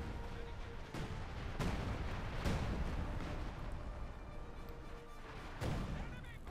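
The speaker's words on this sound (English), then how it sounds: "Bit of artillery there, close to wiping out the Volksgrenadiers" Artillery shells strike a battlefield in Company of Heroes 2, a 1v1 match, landing as several heavy booming impacts spaced a second or so apart beneath steady combat noise, while a commentator talks over them.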